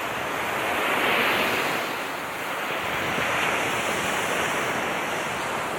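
Rough ocean surf breaks at Main Beach near Melbourne, a broad continuous roar of waves mixed with wind buffeting the microphone, steady and loud throughout with no voices.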